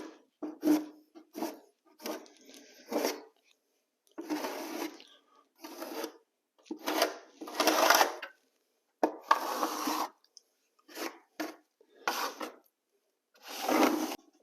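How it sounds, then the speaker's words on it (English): A trowel spreading material across a bathroom subfloor, working up close to the walls: irregular scraping strokes in short bursts separated by silent gaps, fairly quiet and close. "I'm just going to use the nose of my trowel to get up next to the walls."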